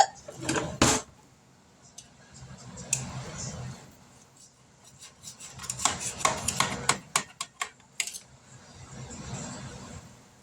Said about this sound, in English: let me find a knife where I can cut these dudes up.